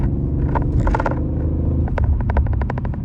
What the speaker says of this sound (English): The exhaust is much more louder as expected.